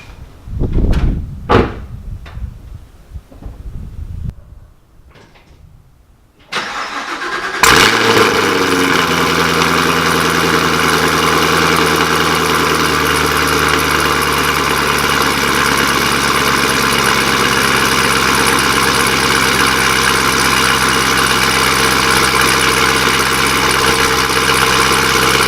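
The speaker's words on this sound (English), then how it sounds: "the most obnoxious cold start you'll ever hear in your entire life" A Chevrolet Camaro ZL1 1LE cold-starts with a sudden loud bark, after a few knocks and quiet moments, then settles into a steady, rumbling idle that holds loud and constant for the rest of the time.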